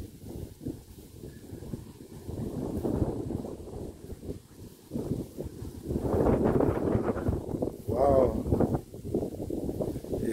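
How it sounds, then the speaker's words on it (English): Wind buffeting a microphone outdoors in rural Commewijne among trees and coconut palms, gusting in uneven rumbling bursts that swell and fade throughout. "It's windy. It's windy."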